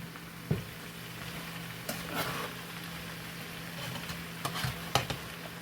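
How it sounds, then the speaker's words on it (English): Potatoes, onions and smoked sausage being stirred in a frying pan, with a steady low sizzle and a few sharp scrapes and clinks of the utensil against the pan scattered through, close and moderately quiet. "Give that a stir."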